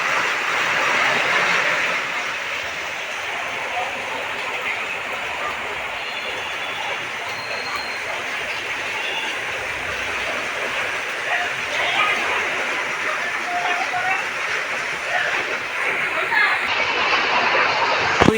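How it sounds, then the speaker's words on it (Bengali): Torrential rain falls on a road outside a ground-floor rental home in a seven-storey building in Surat, a loud, unbroken roaring wash that holds steady throughout while someone talks over it. "পানি হচ্ছে প্রচণ্ড পরিমাণে পানি হচ্ছে"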